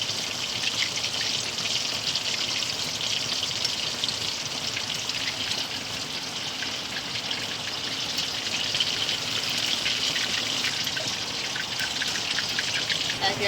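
Hilsa fish pieces frying in hot oil for a mustard hilsa dish, a steady dense sizzle and crackle running unbroken throughout at close range, with no talking.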